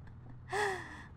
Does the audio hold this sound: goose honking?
no